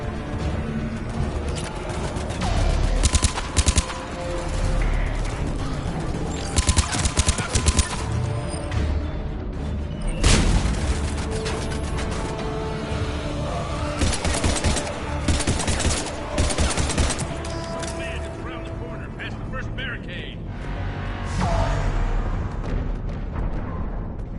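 Dense bursts of gunfire in the video game Mass Effect 3, rapid automatic fire and heavy shots crackling in loud repeated volleys with short lulls, some louder impacts and blasts standing out.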